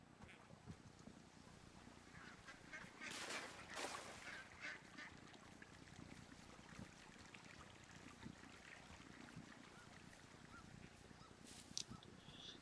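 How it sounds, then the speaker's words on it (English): Geese honk faintly in the video game Firewatch, a few scattered distant calls rising over a soft steady background hiss, with no speech. "Hear a whole bunch of geese."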